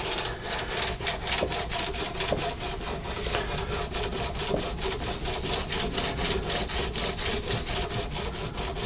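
Sandpaper rubbing over a repaired crack in the wood of a Martin acoustic guitar, steady rhythmic back-and-forth strokes up close, continuous and fairly loud with no talking.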